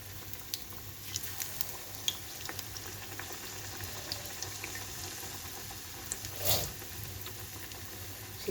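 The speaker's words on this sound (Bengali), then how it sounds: "এখন বেগুনি ভাজবো।" Beguni, battered eggplant slices, frying in oil, a continuous bubbling hiss with scattered small crackles and a brief louder splash or stir partway through.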